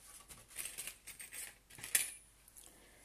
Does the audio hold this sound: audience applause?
no